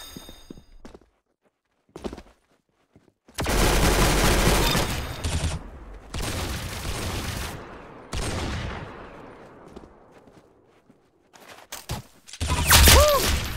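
Rapid bursts of gunfire from the Roblox first-person shooter Arsenal, dense volleys and sustained automatic fire loud and close, with short pauses between exchanges and a few quieter shots and clicks.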